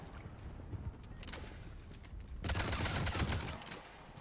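Gunfire from a Black Widow anti-tank rifle in the sci-fi shooter Mass Effect 3, with a noisy burst of loud sharp cracks and a heavier blast that swells midway and holds steady for about a second before fading.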